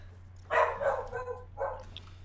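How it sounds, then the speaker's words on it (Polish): A dog howls and whimpers in the background, two drawn-out wavering cries, moderately faint over a low steady hum. "No a mój pies w tle wyje."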